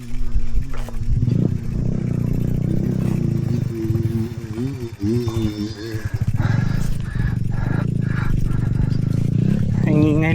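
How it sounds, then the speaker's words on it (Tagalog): Motorcycles pass on a busy road beside a grassland in Murcia, their loud engines droning and shifting in pitch as they go by, with a brief rising rev near the end. "Ang ingay ng mga motor."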